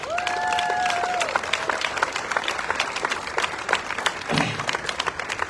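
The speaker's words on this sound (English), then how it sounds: "So give them a big round of applause and tell them thank you." A festival crowd applauds the Red Coat Club volunteers at an outdoor presentation, with a brief whistle-like tone near the start, then scattered but steady clapping from many people at moderate distance.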